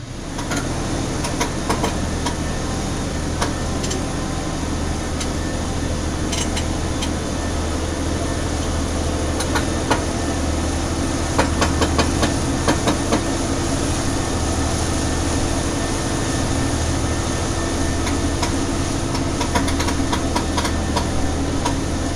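Heavy machinery engine running steadily while working a hydraulic bucket up and down, a constant loud low rumble with faint clanks on top, close and continuous throughout with no talking.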